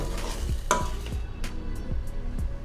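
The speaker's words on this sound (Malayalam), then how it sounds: "ഇനി നമുക്ക് ഫ്രൈ ചെയ്ത് എടുത്ത് വെച്ചിരുന്ന ചിക്കൻ അതിലേക്ക് ചേർത്ത് കൊടുക്കാം. ഇത് നന്നായിട്ടൊന്ന് ഇളക്കി യോജിപ്പിക്കുക." Fried chicken being stirred into a simmering tikka masala gravy in a pan, with a low steady sizzle under a few distinct spoon scrapes and clunks against the pan, close and moderately loud.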